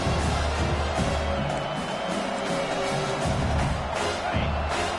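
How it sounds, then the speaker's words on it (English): Football stadium crowd at a Pitt–Rice game roaring steadily, a dense, continuous wash of cheering that swells slightly at the start and end. "This crowd, full throat, splitting the eardrums"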